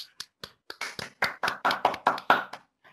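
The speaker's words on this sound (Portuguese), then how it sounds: "Uma salva de palmas." A short round of applause from a few people, roughly a dozen sharp, distinct claps that speed up and grow louder before stopping, with no talk over them.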